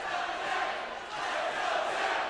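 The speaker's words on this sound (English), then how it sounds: "the crowd is really rooting on Jepsen" An MMA crowd roars continuously, a broad swelling cheer that dips briefly and rises again.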